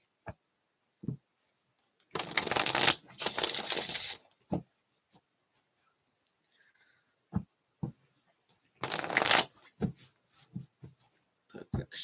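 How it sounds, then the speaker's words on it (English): A deck of tarot cards gets shuffled in two brisk, papery bursts, a longer riffle of about two seconds and a shorter one later, with small taps and handling sounds in between. "Put a quick shuffle on all these cards."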